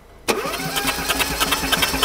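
A downsized car engine with suspected damage is cranked during a compression check, an abrupt start into loud, rhythmic, uneven chugging pulses from the starter and engine, close by and without talk.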